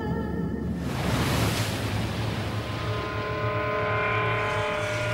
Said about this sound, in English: From out of nowhere, massive waves slammed ashore.